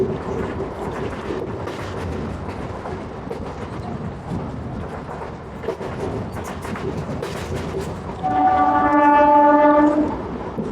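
The Mettupalayam–Coimbatore MEMU train rumbles past nearby with a steady rolling clatter, then sounds a loud, sustained horn near the end.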